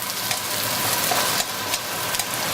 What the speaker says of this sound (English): So now I'm going to add the garlic and the galangal root. And give that a quick stir